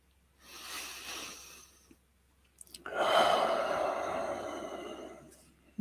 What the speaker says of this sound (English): So let's take a breath together.